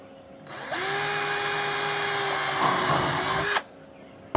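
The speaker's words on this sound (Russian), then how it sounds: "Поставили, сверлим." An electric drill spins up with a rising whine, holds a steady high-pitched buzz for about three seconds while boring a hole for a rivet in a homemade quail feeder, then stops abruptly.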